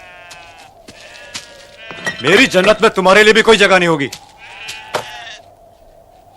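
A sheep lets out a long, quavering bleat lasting nearly two seconds, close and loud. Someone speaks before and after it, and a steady low hum runs underneath.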